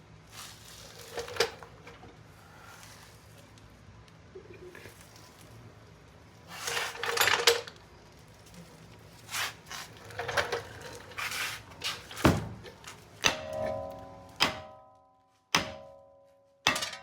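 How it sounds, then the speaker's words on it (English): A small hammer strikes a rear brake bracket on a Mercedes-Benz GLB during a brake job, giving a scattering of close metallic thunks and taps, with several sharp ringing hits toward the end. "I'm gonna hit that with a little hammer."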